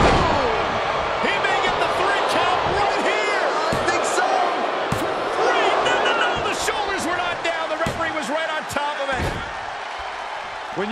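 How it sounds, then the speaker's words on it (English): A WWE 2K23 wrestling arena crowd roars loud and constant through a Kenny Omega vs. Ezekiel match. Whoops and cheers ride on top, punctuated by repeated sharp slams and impacts from the ring. "when you can't hear yourself think because the crowd's so loud"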